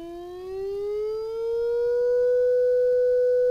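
Steady pure tone from an HP 3310A function generator played through a small speaker, rising slowly in pitch over a few seconds and growing louder, alone with no talk.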